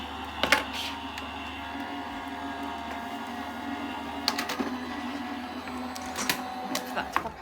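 A Gemini Junior die-cutting machine draws dies and a cutting plate through its rollers with a steady motorized hum and a few clicks and clunks. A voice is heard at moments.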